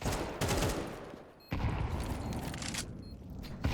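Pistol fire during a bomb retake in Counter-Strike, with dense bursts of rapid gunshots in quick succession, a brief lull, then another long stretch of fire that stays loud and busy throughout.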